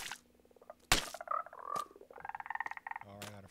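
A Minecraft frog croaks in short pulsing bursts indoors, mixed with sharp block-placing clicks and thuds, moderately loud with a brief voice-like murmur in the background.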